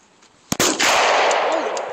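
A single gunshot cracks out at a shooting range target, one loud, sharp, close report followed by a long ringing echo tail.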